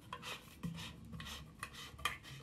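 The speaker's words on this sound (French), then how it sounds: "pour visser l'ensemble des pas de vis plusieurs fois afin de gommer les irrégularités" A nut is screwed by hand onto the plastic threads of a FastFerment fermenter, giving quiet repeated rasping and scraping strokes with light clicks, close and soft, with no talk.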